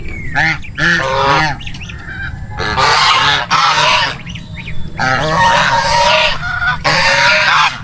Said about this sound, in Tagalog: yung gansa pa na nilalamig